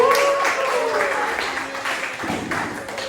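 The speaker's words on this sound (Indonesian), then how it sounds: "tepuk tangan buat Ale" A short burst of classroom applause for a student named Ale, following a high-school economics lesson. It fades as it goes, with a voice near the start.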